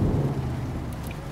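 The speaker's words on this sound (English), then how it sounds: "Well, hopefully this rain lets up." Steady rain hiss with low rumbling thunder in a trucking simulation game, a continuous wash of noise with a deep roll underneath and a few faint high tones near the end.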